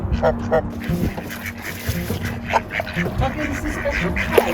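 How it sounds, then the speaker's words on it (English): Geese and ducks honking and quacking beside a narrowboat on the Llangollen Canal, several calls scattered through steady outdoor background, with a person talking over them. "You need to go on a diet, fat goose."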